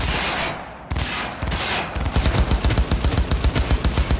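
Rapid gunfire from the video game Cyberpunk 2077, starting with a few scattered heavy shots and then settling into a continuous rhythmic burst of automatic fire, loud and close.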